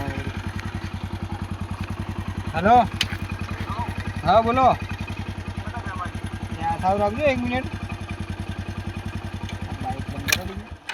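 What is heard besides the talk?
motorcycle engine idling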